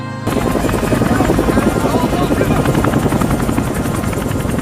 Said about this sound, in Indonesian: helikopter terbang melewati tumpukan itu